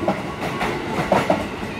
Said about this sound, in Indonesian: Ini ada KRL arah Bogor nih.